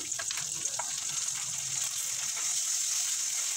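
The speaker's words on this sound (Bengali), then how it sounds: "পেঁয়াজের সাথে একটু হালকা ভেজে নিতে হবে" Ginger-garlic paste sizzling with chopped onions in hot oil, a steady bright frying hiss with a few faint stirring scrapes early on, growing slightly louder toward the end; no voices.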